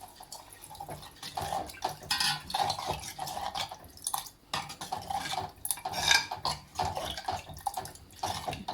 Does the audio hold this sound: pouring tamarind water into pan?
yes